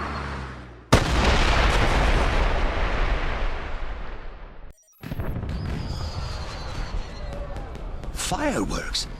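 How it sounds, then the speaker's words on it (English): Fireworks burst in the James Bond 007 Blood Stone video game near the Acropolis, a sudden loud boom followed by sustained crackling and rumbling, a brief gap, then more bursts and whistling streaks, with voices mixed in. "Did you know there were going to be fireworks?"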